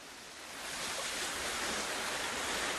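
Rushing water at a waterfall roars in a dense, steady wash of noise that swells in during the first second and stays loud and constant.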